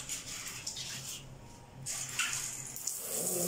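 A hotel bathroom shower left running, water spraying and splashing with an uneven hiss that briefly drops away before gushing again, fairly close and unaccompanied by talk.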